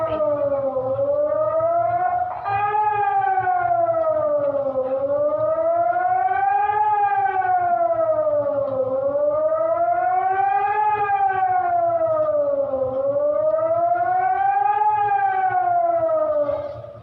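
A civil defense warning siren for Alerto level 1 in the Philippines wails loud and continuous, rising and falling in slow regular sweeps of about four seconds each, heard alone until it cuts off at the end.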